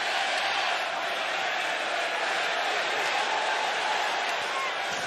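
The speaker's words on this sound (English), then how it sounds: "This crowd very vociferous in their support of Daniel Garcia, their disdain of MJF" A wrestling arena crowd at AEW All Out 2024 roars in a continuous, dense wall of cheering and shouting that holds steady and loud throughout, without breaks.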